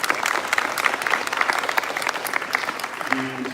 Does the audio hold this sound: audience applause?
yes